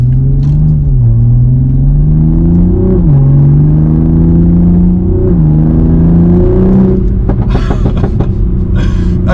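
A 500 hp Toyota Supra's engine pulls steadily under light throttle, a loud close rumble rising and dipping through gear shifts, with brief higher-pitched bursts near the end.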